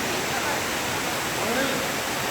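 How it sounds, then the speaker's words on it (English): The world's largest indoor waterfall, cascading from a giant indoor mountain in a cloud forest dome, a dense, continuous roar of falling water filling the space, with a voice speaking faintly underneath. "the largest indoor waterfall in the world."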